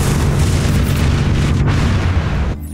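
A nuclear explosion glitch in the online shooter XDefiant produces a loud, dense roaring blast that rumbles steadily for over two seconds before cutting off abruptly.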